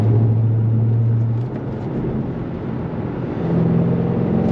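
V8 engine with an aftermarket exhaust system on a vehicle driving on a road, a loud low droning rumble that drops in pitch midway then rises again, steady and close without talk.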